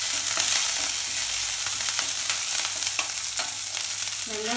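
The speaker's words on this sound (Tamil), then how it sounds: "இஞ்சி சேர்த்துக்கிறேன், பச்சை மிளகாய், கருவேப்பிலை சேர்த்துட்டு நல்லா கொஞ்சம் வறுத்துக்கலாம்" Ginger, green chili and curry leaves fry in hot oil, giving a steady, close, loud sizzle with a few sharper crackles and spits throughout and no talking.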